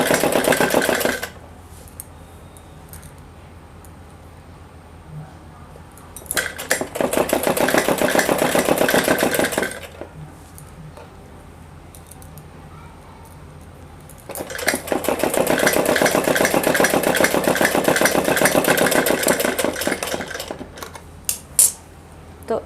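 A sewing machine stitches the sleeve of a plain suit, running in two long, loud, steady bursts separated by quieter pauses, with no talk over it.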